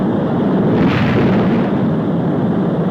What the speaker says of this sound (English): There goes the first stage.